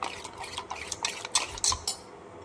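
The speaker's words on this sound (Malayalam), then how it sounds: "ഇതൊന്ന് തവി വെച്ച് നന്നായിട്ട് ഉടച്ചിട്ട് നമുക്ക് അതിലേക്ക് ഒഴിച്ചു കൊടുക്കാം" A metal ladle mashing thick curd in a bowl for a Kerala-style dish, with a series of scraping and clinking strokes, some louder than others, close up with no talk.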